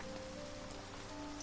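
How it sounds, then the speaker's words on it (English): Rain falls in the farming game Grimshire as a soft, even patter that stays faint and continuous. A low tonal hum from the game's ambience sits beneath it, and no one talks. "It is raining."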